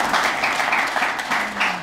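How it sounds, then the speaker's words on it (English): An audience at a Samoa College ceremony gives a round of applause, a steady wash of clapping that stays fairly loud for about two seconds, with a faint voice rising underneath near the end. "Let's give a big round of applause."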